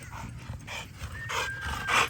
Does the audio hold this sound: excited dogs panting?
yes